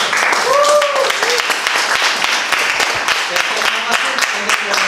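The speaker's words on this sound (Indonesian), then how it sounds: "Kalau begitu beri tepuk tangan untuk kelompok." A classroom gives applause for a student group, a dense burst of clapping that fills the whole stretch, close and loud, with a few voices mixed in.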